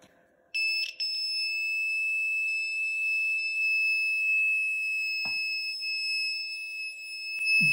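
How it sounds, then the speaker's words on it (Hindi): A homemade short circuit breaker's electronic buzzer starts abruptly and holds a loud, steady high-pitched tone for several seconds, broken only by a couple of faint clicks, with no talking. "ये इसका बजर ऑफ।"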